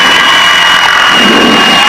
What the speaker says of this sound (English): Okay, left engine is started.